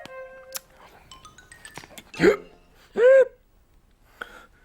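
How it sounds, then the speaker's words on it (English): A cartoon biscuit tin hiccups twice, each a short, sharp, rising vocal gulp about a second apart, surfacing over a quiet background. "Did that biscuit tin just hiccup?"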